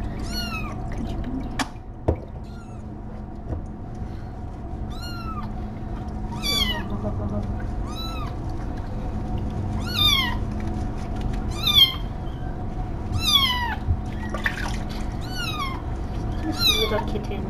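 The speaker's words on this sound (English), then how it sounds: "Little kittens." Several kittens meow repeatedly, high and close, in a series of short cries over a steady background hum and faint water sounds, with occasional quiet speech.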